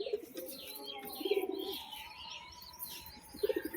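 Pigeons cooing close by in soft, rolling phrases, with light chirps and a brief wing flutter near the end over a quiet background; no voices.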